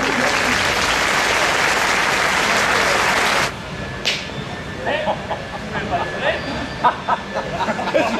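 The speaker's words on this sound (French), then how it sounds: "je voudrais que vous applaudissiez très fort tout de suite" Audience at a summer outdoor event in La Crau applauding the municipal teams: dense, loud clapping for about three and a half seconds that stops abruptly, followed by a few scattered claps and crowd murmur.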